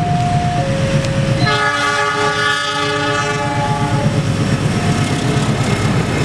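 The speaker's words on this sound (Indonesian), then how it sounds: "Mantap sekali persilangannya antara kereta api Argo Wilis dan kereta api Kamojang." At a station, Argo Wilis and Kamojang trains cross. A loud, close multi-tone train horn sounds over heavy continuous rumble and clattering wheels.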